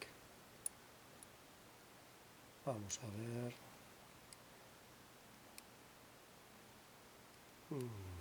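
A 3D-printed disc lock pick works a padlock, giving sparse, faint, sharp clicks spaced a second or more apart over low background hiss, with someone speaking briefly.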